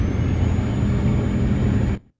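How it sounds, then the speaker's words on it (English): A heavy truck engine in Euro Truck Simulator 2 holds a steady low rumble and whir, loud and close, then cuts out abruptly near the end. "I'm trying out this truck"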